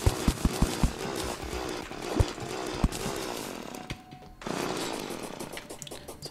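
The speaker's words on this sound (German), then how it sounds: "Der Bohrer ist laut." Loud buzzing drill from Terraria on Switch, a steady chainsaw-like whine running through the whole stretch, cut by a few sharp thumps at the start and briefly dropping out near the end before resuming.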